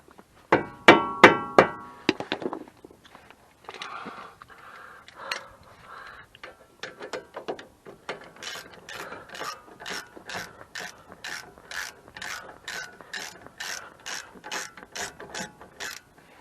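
A ratchet wrench loosens a part with close, crisp clicking: a quick burst of clicks at first, then a long steady run of evenly spaced ticks, with no voices.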